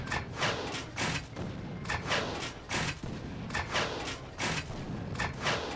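Rocket turret in ARK: Survival Evolved firing at a metal structure, a rapid series of repeated booming thuds and impacts at a fairly regular rhythm, moderately loud, no speech.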